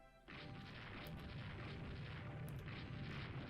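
A torpedo strikes a ship in the naval strategy game Rule the Waves 2, a sudden deep boom swelling into a sustained rumbling roar that holds steady to the end, with no voices over it.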